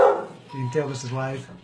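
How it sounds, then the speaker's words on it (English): A pet dog barks several times close by, loud and clear under a person talking. "Sorry for my dog barking there."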